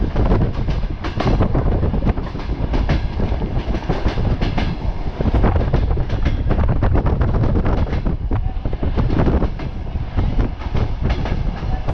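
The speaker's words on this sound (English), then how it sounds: "Let's get on the train." A passenger train from Mogilev on the Belarusian-Russian route rumbles steadily from inside the carriage, with a dense, continuous roar and repeated clickety-clack of wheels over rail joints, loud and close throughout.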